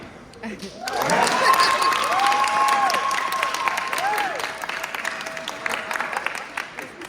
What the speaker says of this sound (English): they're going to give you a big round of applause here this afternoon